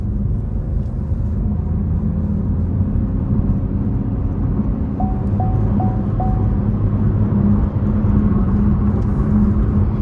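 From inside the cabin, a 2024 Chevrolet TrailBlazer LT with a small turbocharged 3-cylinder engine gives a loud, steady, low rumble under load, with a faint chirping whine partway through and road noise throughout.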